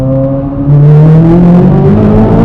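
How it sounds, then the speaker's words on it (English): Chevrolet Corvette C8 Z06 engine booming inside a road tunnel, a loud sustained drone that swells as the throttle opens and the pitch climbs steadily, alone with no talk. "we're about to go through a tunnel here. The car's going to sound absolutely epic."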